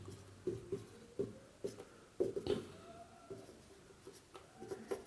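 Pen scratching out a maths solution on paper, a series of short taps and strokes in an irregular rhythm, close and quiet, with no voice.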